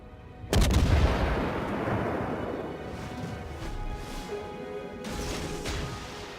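A warship fires its guns in the naval battle game World of Warships with a sudden heavy boom that rolls into a long rumbling decay, then a second softer report follows.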